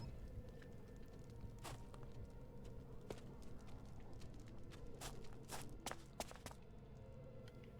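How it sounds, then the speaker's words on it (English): Footsteps in the stealth game Thief: Deadly Shadows tap along irregularly over a low ambient hum, with several sharper, clicking steps near the end, moderately faint. "See, at least this time I actually hear footsteps."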